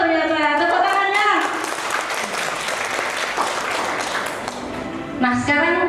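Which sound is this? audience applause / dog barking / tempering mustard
audience applause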